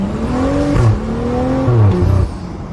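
A tuned BMW F30 335i Stage 2+ pulls hard from inside the cabin, its engine note climbing in pitch, dropping sharply at a quick gear change, then rising again before a second shift near the end, loud and close.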